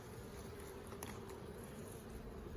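Dense, steady buzzing of a honey bee colony at an open hive during a beekeeper's inspection, a continuous close drone with no talk.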